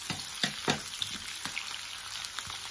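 Garlic and onions frying in hot oil, a bright continuous sizzle punctuated by several sharp pops and spoon taps, close up and without speech.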